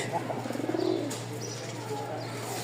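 A male pigeon coos close by, a short throaty rolling call, then quieter calls over a constant low hum.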